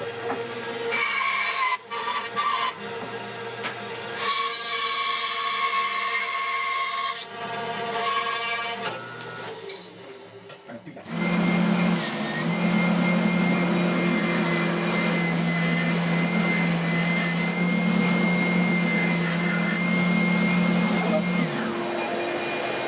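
A bandsaw trims a vintage-style Stratocaster guitar body replica, a steady whining buzz with interruptions, then a spindle sander grinds the wood with a louder, rougher continuous drone for the remaining half.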